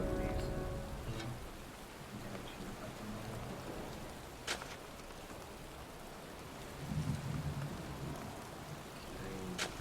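Heavy rain pours steadily in the video game Heavy Rain, with occasional low rumbles of thunder and a few sharp cracks, constant and enveloping.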